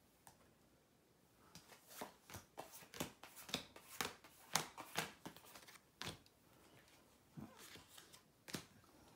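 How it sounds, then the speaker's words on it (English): Playing cards from a draw deck are dealt out in a run of quick, crisp flicks and slaps, close and fairly quiet, clustered in bursts with short pauses between them. "For the second round, we're going to be getting another 6 cards each for 2 players from the draw deck"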